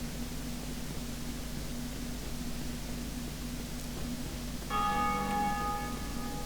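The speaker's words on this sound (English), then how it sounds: "The bells! The bells, Esmeralda!" Church bells ring in the Dark Souls video game, a steady bright peal with sustained tones joining in near the end over a constant low hum and hiss.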